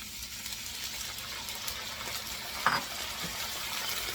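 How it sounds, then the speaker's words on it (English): Lobster tails stir-frying in a hot pan with a splash of added water, giving a steady hiss and sizzle of steam throughout, with one brief louder clatter near the middle. "I'm using the steam and the stir-fry method to evaporate, you see, the water"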